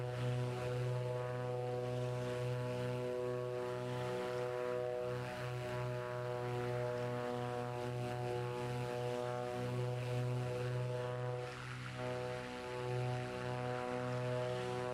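The piston engines of a Beechcraft Duke propeller aircraft in a flight simulator hum with a steady, tonal drone and propeller whirr, continuous and fairly close throughout.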